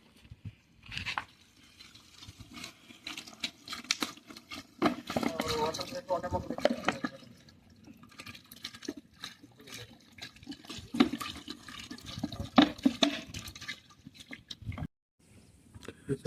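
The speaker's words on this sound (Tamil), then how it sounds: "ஸோ 2 லிட்டர் தண்ணி சேர்த்துக்கலாம்." Two litres of water poured into a large pot of 2 kg chicken dum biryani in a home kitchen, a steady splashing, gushing stream running under intermittent talk before cutting off near the end.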